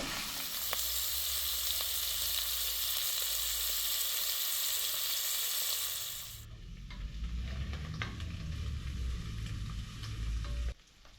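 Sausage and ham frying in a pan for a country-style omelette give off a steady, soft sizzle. Partway through it turns to quieter crackling and stirring sounds, with no talk.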